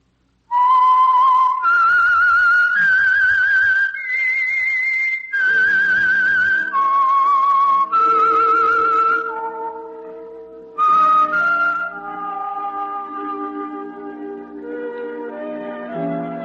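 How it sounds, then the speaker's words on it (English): A lone whistled melody serves as the signature signal of the Signal Oil radio program The Whistler: clear, sustained notes climb and fall in a slow, haunting tune with no talk. "That whistle is your signal for the Signal Oil program, The Whistler."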